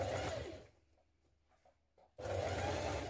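A sewing machine stitches the back seam of a pair of jeans at a 1.2 centimetre seam allowance, running loud and steady, stopping for a quiet pause, then starting again at full speed.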